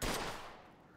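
A close, sharp gunshot aimed at an old wreck in the video game Mafia II: Definitive Edition, striking loudly at the start and fading through a smooth echoing decay over the next second.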